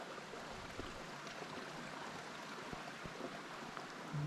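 Water flowing out of a frozen stream on an icy day, a faint, steady trickle and wash that continues throughout with no voices.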